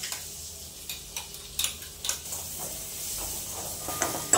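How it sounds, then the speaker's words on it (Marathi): Spices for a tempering crackle and pop in hot oil in a kadhai, scattered sharp ticks over a soft sizzling hiss, close and fairly quiet. "तेल गरम झालंय, फोडणी देऊन देते"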